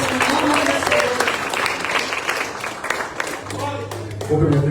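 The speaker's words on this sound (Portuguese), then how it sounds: "Recebemos o servo do Senhor com palmas e agradecemos em nome de Deus." A church congregation applauds to welcome the preacher, a loud, dense wash of clapping running the whole time with voices and cheers mixed in and a low hum near the end.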